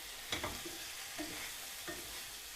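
Chicken breast frying in a pan with carrot and onion, a soft continuous sizzle broken by a few light scrapes and clicks of stirring, quiet and close, with no voices.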